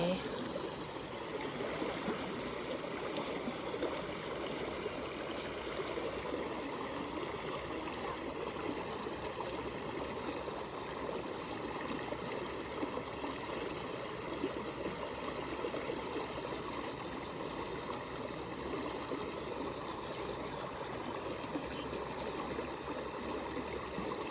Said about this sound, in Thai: กับเสียงน้ำไหล